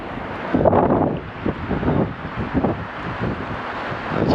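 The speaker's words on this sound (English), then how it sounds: "It's fairly windy today." Gusty wind buffeting the microphone at a riverside campsite on the Tamar River in Tasmania, rising and falling in low rumbling surges with no talk.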